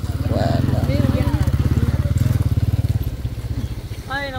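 A motorcycle engine runs close by with a rapid, pulsing throb as the bike rides along a muddy, unpaved street. The throb stays steady and loud throughout, with faint voices in the background.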